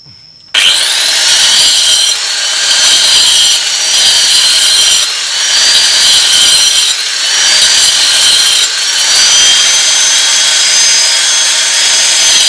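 A power cutting machine bites into stone while a stone mortar is being made, starting abruptly after near silence into a loud, harsh, continuous grinding whine with a few brief dips in intensity.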